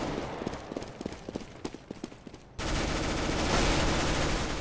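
Shotgun blasts in Counter-Strike: Global Offensive on Dust 2, a run of sharp separate shots and footsteps followed by a sudden loud, sustained burst of noise, with no voices.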